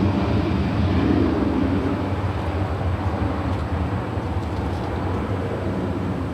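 A Delta Airbus A320 airliner departing LAX produces a loud, steady broadband engine roar and rumble. It holds evenly for several seconds with no voices.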